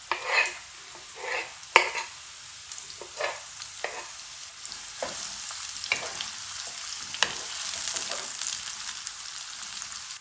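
Chopped onion dropped into hot oil for palak matar, a loud burst of sizzling frying with intermittent stirring scrapes and clatters, settling into a steady hiss.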